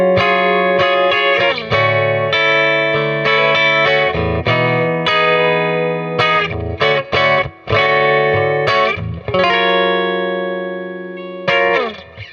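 A Fender Jaguar electric guitar fitted with Jazzmaster pickups plays on the bridge pickup, volume and tone at full, through a Princeton Reverb reissue amp: loud, sustained chords and single notes with reverb, alone and without talk.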